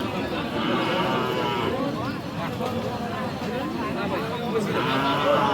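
Cattle, including Jersey and cross Friesian calves, low and moo repeatedly amid a busy livestock market din at Aftabganj, Dinajpur, Bangladesh, with crowd chatter and voices around them.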